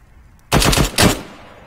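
Two close bursts of automatic gunfire from the video game Arma 3 in a co-op match, loud and sharp, each rattling for under half a second before a fading tail.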